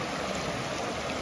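Clear stream water flowing at the water's edge near an old bridge on the Isle of Mull, a steady broadband rush and trickle, close and constant with no voices.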